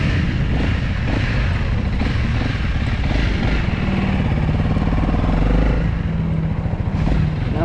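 A 2021 Honda CRF300L dual-sport motorcycle on a test ride on brand-new tires, its engine droning steadily and close throughout, pulling low in the revs with slight rises and falls.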